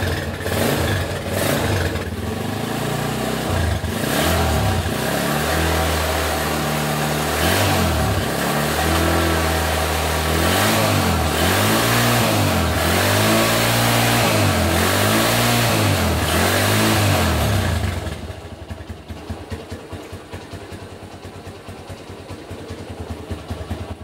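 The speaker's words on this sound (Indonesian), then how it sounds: "Kita coba naikkan RPM mesinnya." Honda GL Pro motorcycle engine held at raised revs in a workshop test, a loud steady drone with rhythmic wavering pitch for most of the clip, then dropping back to a rough idle.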